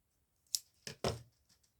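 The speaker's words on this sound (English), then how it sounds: "We're going normal scissors." Normal scissors snipping coffee-dyed lace, three quick close crunchy cuts within about half a second, then a couple of faint clicks, with no talking.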